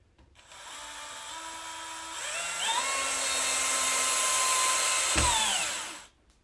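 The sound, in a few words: power drill driving a screw into a molly anchor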